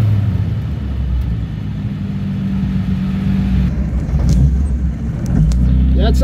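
A Jaguar E-Type fitted with a Tourist Trophy exhaust idles with a steady, deep low rumble echoing in an underground parkade, close and continuous with slight swells as the engine note shifts.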